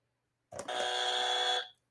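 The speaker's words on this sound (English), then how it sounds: "I like this buzzer, Shane." A single loud electronic buzzer blares for about a second, a harsh sustained tone that starts abruptly and cuts off cleanly, with silence before and after.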